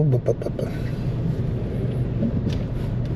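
A Kia Forte with a stalling problem idles in gear: a steady low engine rumble runs throughout, with a few brief knocks near the start and faint speech at times.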